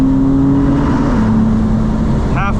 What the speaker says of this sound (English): Fifth gear pull at 100.